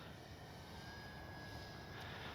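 A Dynam Beaver V2 RC model airplane passes low and slow with flaps down, its steady electric drone holding even and continuous throughout, with a faint rising whine near the end and no talking.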